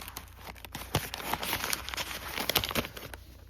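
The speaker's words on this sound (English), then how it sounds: "When I cut this bag open" A plastic shipping bag holding an Ozark Trail tanto knife is cut open close up, giving quiet, continuous crinkling and crackling with scattered sharp ticks.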